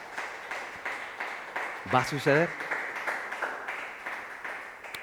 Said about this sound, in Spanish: Gloria a Dios, ten un aplauso a Él.